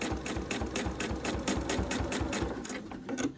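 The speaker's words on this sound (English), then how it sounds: "we're just going to continue to sew this onto the back side" A sewing machine runs steadily, stitching binding onto the back of a quilt. Its needle clatters in a fast, even rhythm that stays close and loud throughout, with no voices.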